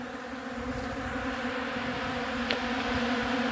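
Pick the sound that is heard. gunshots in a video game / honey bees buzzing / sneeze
honey bees buzzing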